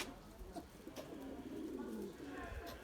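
Erzurum white pigeons coo softly in a breeding loft, low murmuring calls repeating under a quiet voice nearby.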